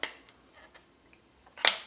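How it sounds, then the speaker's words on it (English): Lubricant sprays onto the moving parts of an over-and-under shotgun in two short, close hissing bursts, one at the start and a louder one near the end, with quiet handling between. "I'm going to spray some of the moving parts on both sides."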